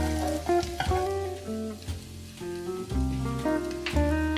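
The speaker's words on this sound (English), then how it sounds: "Stir fry until the egg yolk oil comes out." Scallions and salted duck egg yolk stir-frying in hot oil in a pan, a steady soft sizzle and crackle under prominent tonal background music.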